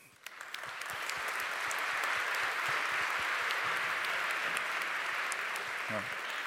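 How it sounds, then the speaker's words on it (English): A conference audience gives the whole panel a round of applause after a high-level session on landscapes, a steady wash of many hands clapping that swells quickly and holds, with a brief voice at the end. "I propose a round of applause for the whole panel"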